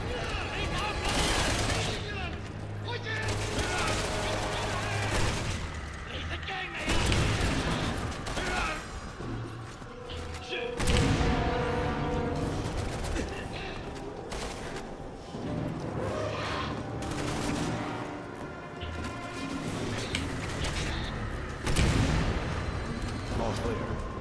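Sustained gunfire in Resident Evil 6 during a firefight, with dense, loud bursts of shots and explosions repeating through the whole stretch while voices talk over the combat.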